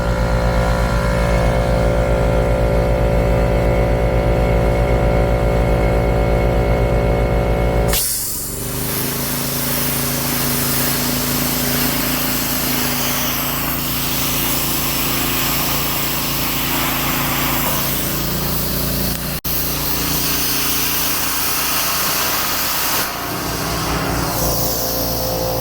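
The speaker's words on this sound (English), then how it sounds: "our air compressor is a little small, like the rating for the air, the CFMs" Small air compressor running loudly and continuously while metal is cut with a plasma cutter, with a steady mechanical drone whose tone changes abruptly partway through and then stays constant and close.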